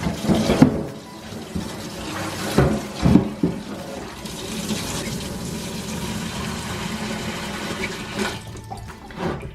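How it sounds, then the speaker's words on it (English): Water runs from a tap into a tub in a steady rushing stream, broken by a few louder splashes and knocks near the start. "tip out your water and then run some clean water in"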